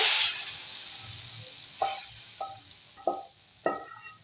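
Chikar cholay, Lahori-style chickpeas, cook on low flame with masala, giving a soft steady sizzle under a few distinct scrapes and stirs of a spoon in the pot.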